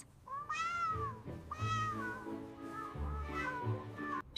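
A mother cat meows several times in a row, drawn-out, wavering calls that rise and fall, close and clear with faint background murmur between them.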